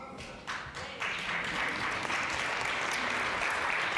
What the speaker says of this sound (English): That was a Ringo applause